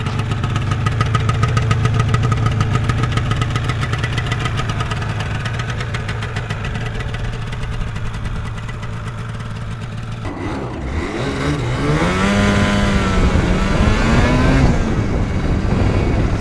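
A 1986 Yamaha TZR250 two-stroke motorcycle with a power valve runs steadily loud at low revs for about ten seconds, then pulls away, its buzzing exhaust note rising and falling through the revs.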